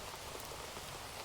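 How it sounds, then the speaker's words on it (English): Steady rainforest rain plays softly in the background, a continuous even hiss of falling water with no voices over it. "We're actually listening to rainforest rain, so it's like the ultimate rain."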